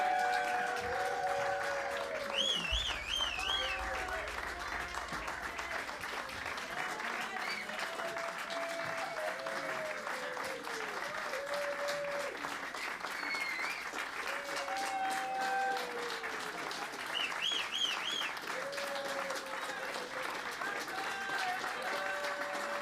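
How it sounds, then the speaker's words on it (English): Audience at an album release show at The Focal Point keeps clapping and cheering steadily, with whistles and shouts rising over the continuous applause. "you guys just keep clapping"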